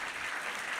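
A brief, steady wash of applause from an audience at a Dutch podcast live recording, faint and even throughout with no break.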